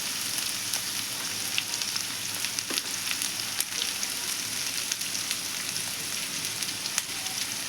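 Salted ridge gourd fries in a pan, giving a dense, continuous sizzle with scattered crackles and pops, close and steady throughout.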